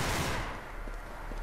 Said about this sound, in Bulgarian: някой от някъде стреля